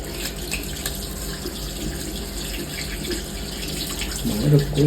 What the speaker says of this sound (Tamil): இந்த ரோஸ் மில்க் எசன்ஸை கழுவுறேன்